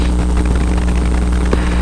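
Experimental light aircraft engine droning steadily while the plane creeps along the taxiway, a loud, constant close-up propeller and engine hum with no breaks.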